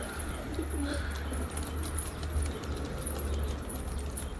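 Pigeons cooing indoors, soft low coos over a constant background hum with light rustling and clinking, fairly close and without talk.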